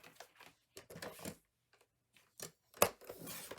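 Scissors cutting paper into small pieces for a Christmas mini-album craft, a few short crisp snips and rustles in separate bursts with quiet gaps, close and soft.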